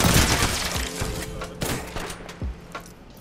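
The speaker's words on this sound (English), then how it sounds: "I'm getting shot." Gunfire in a ranked Apex Legends match on the Mirage character lands on the player: a dense, loud burst of overlapping shots and impacts with sharp cracks, thinning out toward the end.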